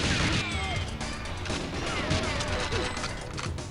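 Dense, sustained gunfire and crashing impacts from a weapon in the video game GoldenEye, loud and continuous with sharp bursts layered over a busy, noisy backdrop.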